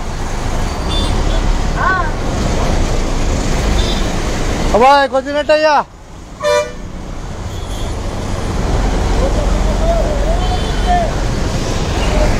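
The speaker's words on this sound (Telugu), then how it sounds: "ఫుల్గా వచ్చింది ట్రాఫిక్" Busy roadside traffic with a steady motor rumble, a few short toots and a louder burst of horn honks near the middle, with people chatting over it.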